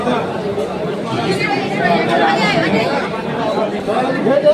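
Crowd of students waiting for tokens at an admission test at Qurtuba, a steady close hubbub of many overlapping voices chattering throughout.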